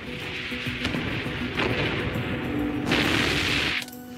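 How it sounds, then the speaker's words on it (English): An explosion tied to a fuel tank booms in rough, noisy bursts, with a heavy rumbling blast building toward the end before cutting off. "This is the video footage of the actual explosion."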